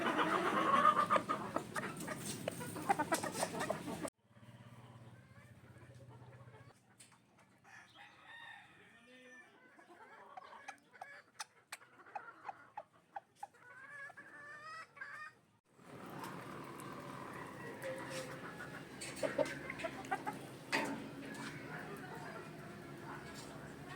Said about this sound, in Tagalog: sinubuan ko na ang iba pang mga manok.